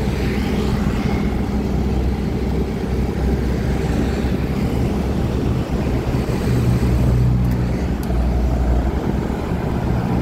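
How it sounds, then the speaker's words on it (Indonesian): Busy road traffic passing at night along Jalan Tun Abdul Razak beside a mall in Makassar: a steady, loud wash of car and motorbike engines and tyre noise, continuous throughout with no pauses. "Kita saksikan kendaraan yang lalu lalang masih lumayan ramai"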